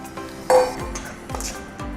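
Winged bean salad and pork being tossed together in a bowl, with a few close clinks and scrapes of utensils against the dish over a couple of seconds.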